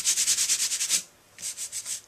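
Halloween card-making: Color Core cardstock is rubbed briskly by hand, a close, dry rasping swish repeated in quick, even strokes. After a short pause, a second run of rubbing strokes follows, and nothing else is heard.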